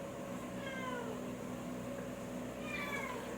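A cat in Malaysia meows twice, a short call and then another a couple of seconds later, fairly close against a steady background hum.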